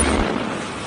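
A bomb blows up a house in news footage: a loud, dense blast of roaring noise with a deep low rumble at the start, filling about a second without letting up.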